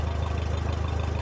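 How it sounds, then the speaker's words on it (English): An antique tractor engine idles steadily close by at a tractor show in Glendale, a low rumbling, evenly throbbing hum that holds without a break. "she hopped on the Big Daddy. Yes, the big tractor."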